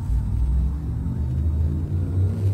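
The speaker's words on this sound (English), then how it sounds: "Frameshift drive charging." A frameshift drive charging aboard a Fer-De-Lance ship in Elite: Dangerous, a steady low rumbling hum that swells slightly near the end, heard alone.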